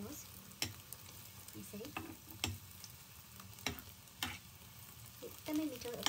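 Bread slices fry in ghee until brown, a soft low sizzle with occasional utensil clinks and scrapes, fairly quiet, with a brief word spoken.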